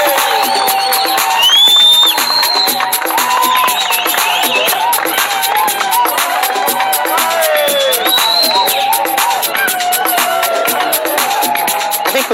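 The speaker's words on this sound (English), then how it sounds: "applaudissements" Audience applause and cheering, with whoops and a busy mix of voices over continuous clapping; loud and close, sustained for the whole stretch with shouted calls rising and falling.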